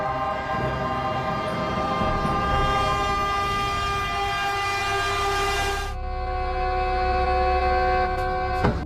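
An approaching train blasts a loud, sustained multi-tone horn over a heavy rolling rumble; the horn breaks off briefly, then sounds again as the engine draws near.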